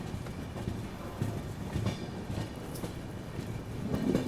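An Indian AC express train rolls slowly over rails past a work zone, with low rumbling and irregular wheel clunks and clacks heard from inside, no talk.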